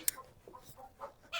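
Hens at an organic egg farm cluck in a few short, separate calls, moderately close with quiet barnyard air between them.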